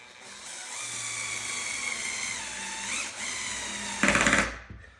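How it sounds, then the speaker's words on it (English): A power drill drives screws into a height-adjustable desk during assembly, a steady high whine with a shift near the middle, then a louder, harsher burst of torquing before it cuts off. "So holding it and drill it."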